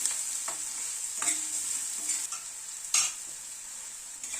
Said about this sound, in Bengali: পেঁয়াজটাকে একটুখানি ভেজে নিলাম, এই মিনিট খানেক একটু নাড়াচাড়া করে নিলাম।